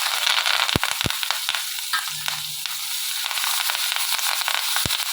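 Mustard seeds spluttering and popping in hot oil in a home kitchen pan, a steady bright sizzle broken by a few sharp crackling pops, close and fairly loud.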